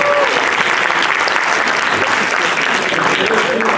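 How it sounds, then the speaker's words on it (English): A convention crowd applauds the three players after a competitive round of a furry Jeopardy-style game show. The clapping is loud, dense and sustained for nearly four seconds. "Let's give a round of applause for those who played."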